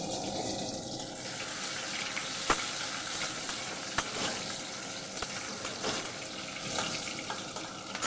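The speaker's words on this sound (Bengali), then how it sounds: "এবার কাজু কিশমিশটা ভেজে নেব।" Cashews and raisins frying in a pan (kadai) as part of a home cooking session, giving a steady, moderately loud sizzling crackle throughout with a few sharper pops and no talking.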